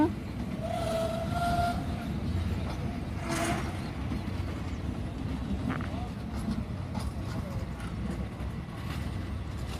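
Train pulling into Hua Lamphong station in Bangkok, a steady rolling rumble of rail cars with a brief whistle or horn early on and background voices throughout.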